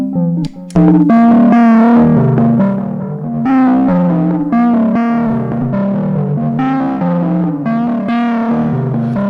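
An electric guitar runs through lo-fi, cassette-style distortion pedals, playing loud, close, strongly saturated chords and single notes with a warbling, degraded edge. The phrases are short, with brief gaps between strums and no talking.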